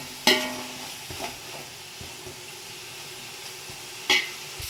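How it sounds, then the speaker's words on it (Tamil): Ginger garlic paste sautéing in a pan for beef biryani, a low steady sizzle with a few sharp stirring clanks near the start and end, no talking. "மீதியை வந்து இதில் சேர்த்து நல்லா வதக்கி விட்றேன்."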